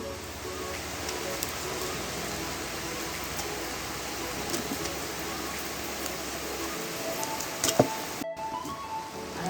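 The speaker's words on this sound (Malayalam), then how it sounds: "ഇവിടെ നല്ല മഴയാണ്." Heavy rain falls steadily in misty Attappadi, a dense continuous hiss that holds for most of the stretch, broken by a brief dropout near the end.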